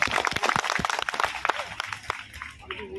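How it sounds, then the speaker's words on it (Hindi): An audience claps at a satsang gathering in Deoghar: a dense burst of many hands for about two seconds, then it thins and fades into quieter background noise with faint voices. "एक बार ताली तो बजा दीजिए।"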